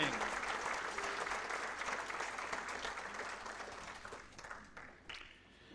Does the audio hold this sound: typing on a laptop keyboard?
no